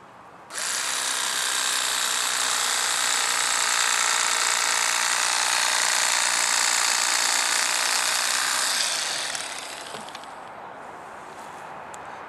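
Electric knife filleting a channel catfish, a loud continuous buzzing motor whine that starts abruptly, runs steadily for about nine seconds, then tapers off into quieter scraping.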